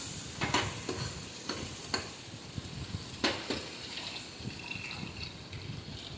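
A spoon scrapes and stirs a mutton biryani mixture in a pot with a few sharp clinks and scrapes against the metal amid soft sizzling, all faint and close.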